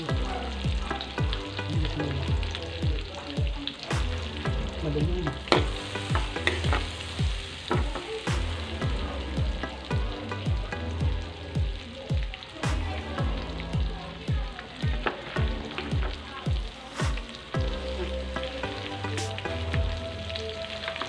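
Butter sizzles steadily in a frying pan, a dense crackling hiss with scattered pops and some stirring scrapes, close and continuous throughout.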